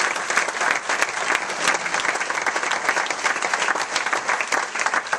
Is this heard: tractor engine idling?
no